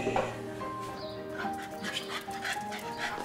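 Dogs out on a walk barking and whimpering with short yips, close and fairly loud against a busy outdoor background.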